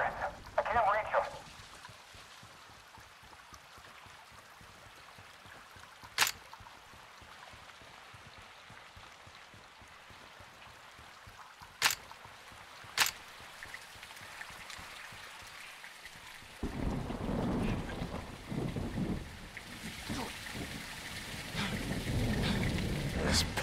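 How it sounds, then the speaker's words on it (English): Heavy rain pours in Call of Duty Modern Warfare 2, a dense hiss that thickens into a loud downpour near the end, with a few sharp cracks earlier and voices talking over it. "It's raining fucking hard"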